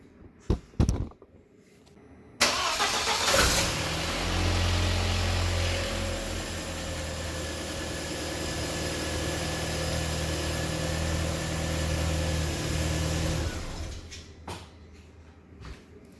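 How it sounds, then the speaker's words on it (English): A 2000 Audi A4 B5 engine cranks and catches at about 2.5 seconds, then idles steadily and loudly with a low hum and a constant rumble for roughly eleven seconds before it shuts off, and faint clanks come before and after. "now I'm gonna start the car"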